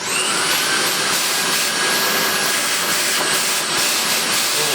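An Electrolux Automatic G vacuum cleaner runs with a loud, steady airy roar and hiss, close up, its pitch wavering slightly as the suction falters.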